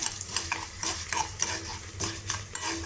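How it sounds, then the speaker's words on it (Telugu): A dal tempering sizzles in hot oil as a spoonful of asafoetida goes in, with rhythmic spoon-against-pan stirring scrapes and clinks over a close crackle, and no talking. "పోపు వేగింది, ఇంగు వేస్తున్నా, 1 స్పూన్ ఇంగు వేస్తున్నా."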